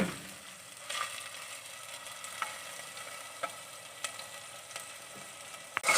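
Boneless chicken, about 300 grams, frying in a pan, a steady sizzle with occasional sharp scrapes and clicks of stirring, close and moderately quiet, without speech.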